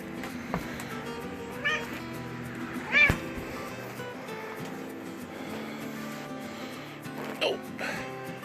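A cat meows indoors, with a few short calls including a louder cry near the middle, against a steady background hum and faint talk.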